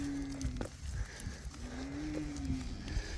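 Bull calves on a pasture farm moo in two drawn-out, nearby calls over a steady outdoor background, with no talking.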